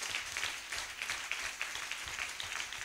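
A church congregation claps and applauds for Jesus, a steady, rhythmic wash of many hands at moderate distance. It sounds fairly soft and even, with one sharper burst at the very end.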